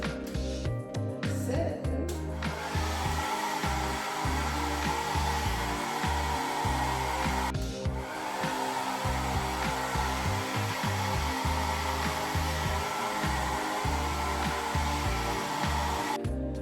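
A hair dryer blows steadily on freshly painted acrylic wall art, a loud continuous whoosh that holds from start to finish with only a brief dip partway through.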